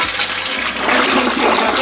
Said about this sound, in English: All right, now flush.